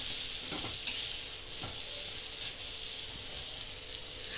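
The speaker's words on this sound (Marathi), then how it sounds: "आता याला आपण मस्त हलवून घेऊया" Rava sheera with almond slivers stirred in a hot pan: a continuous close sizzle with a few scraping strokes of the spoon, alone with no voices.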